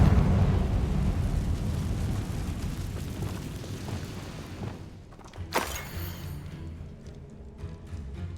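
A Confringo fire spell bursts in Hogwarts Legacy, a single sharp blast cutting through a dense rumbling game soundscape, with a brief bright crack and fading tail.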